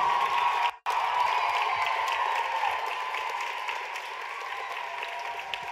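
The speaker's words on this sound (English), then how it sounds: "You need to give all this incredible talent on stage a huge round of applause." A large audience at the NYCDA Orlando Nationals dance gala claps for dancers on stage, a dense, steady roar of applause that drops out for a moment, then continues and slowly fades a little.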